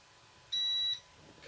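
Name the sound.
3D printer beeping at startup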